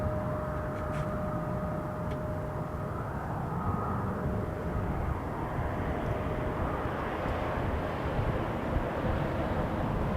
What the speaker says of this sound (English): From Bogota, Colombia, Airbus A330